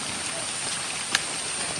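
Steady rain falls near a cave in the Araku hills, a constant even hiss with one brief sharp tap partway through, no voices.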